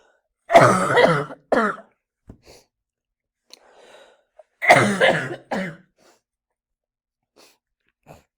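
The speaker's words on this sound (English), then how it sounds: "I still have my cough." Two harsh, throaty coughs close by, each a short cluster of bursts, separated by a few seconds of quiet.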